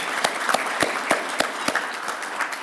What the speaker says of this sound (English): Let's give him a round of applause, please, for his military service